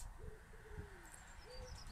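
Soft hooting bird calls, a few gentle, low, drawn-out notes, carry faintly over a quiet outdoor hush with distant rumble; a higher chirp flickers in near the end.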